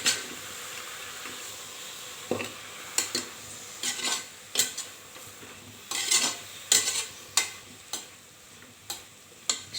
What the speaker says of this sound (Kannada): ಎಣ್ಣೆಯಲ್ಲಿ ಫ್ರೈ ಮಾಡಿಕೊಂಡ್ರೆ ಸಾಕು